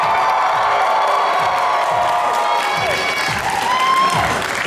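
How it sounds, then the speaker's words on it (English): A convention audience cheers, whoops and applauds at a J-fashion show at Saboten-Con 2021, a loud, continuous wall of clapping and high shouts filling the whole stretch without a break. "When you guys cheer loud enough, the lights came on."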